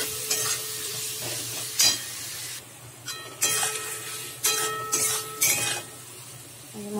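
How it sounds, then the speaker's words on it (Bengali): Spice masala with chopped tomatoes and green chillies frying in a pan: an ongoing sizzle under intermittent bursts of stirring and scraping, a few light clinks of utensil on metal, no speech. "দিয়ে এবারে ভালো করে মশলাটা কষাবো"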